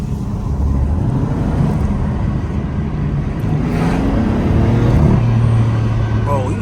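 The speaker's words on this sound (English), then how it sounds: "You hear that turbo though." Engine of a BMW M3 F80 with its turbo, a steady loud vehicle drone with a rising whine partway through, heard close from inside the car, with some talk over it.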